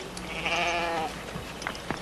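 A goat gives one clear, wavering bleat outdoors on a Western film soundtrack, fairly close, followed by faint scattered noises.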